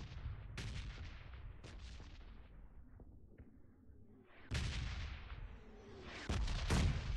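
A grenade blast in a first-person shooter match, heard among several loud gunshot-like bangs and booms, with a big broadband burst near the middle and heavy, sustained blasts closing the passage.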